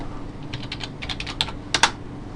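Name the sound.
typing on a computer keyboard to log in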